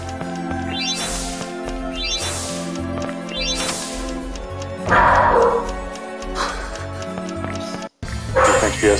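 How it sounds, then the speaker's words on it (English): A frustrated pet dog barks repeatedly with yips and whimpers, loud and close over video game music, with a short gap near the end. "My dog is very frustrated by this puzzle, if you can hear her barking."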